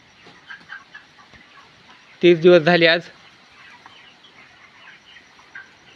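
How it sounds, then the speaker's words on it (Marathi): Free-range chickens on a poultry farm cluck and call, with one loud burst of clucking in the middle standing out over quieter, scattered calls; someone speaks briefly nearby. "तर बघा पक्षी बघा"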